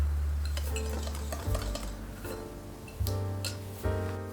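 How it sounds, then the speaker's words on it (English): A utensil stirs dry cake ingredients with sugar and salt in a bowl, making scraping and clinking sounds against the sides, with a low background hum that cuts out and returns in stretches. "Now give it a good mix to ensure all the ingredients are smoothly and evenly incorporated"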